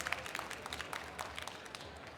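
Scattered applause from a conference audience, faint and thin, a small crowd clapping briefly at a distance.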